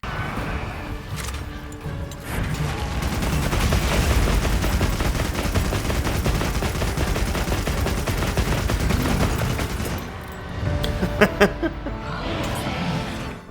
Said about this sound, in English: Load the pierce rounds, ready the machine gun,